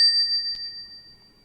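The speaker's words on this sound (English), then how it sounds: "The bell is actually quite loud" A single bright bell chime from a coded clock app rings at the start with a second strike just after, then a steady ringing tone decays faintly over a quiet background.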